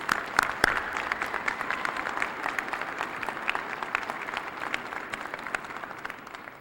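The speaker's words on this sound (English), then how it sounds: "Let's give them a big round of applause." A large crowd at a county State of the County address applauds high school students and staff, a dense, even wash of clapping that holds steady at moderate loudness throughout.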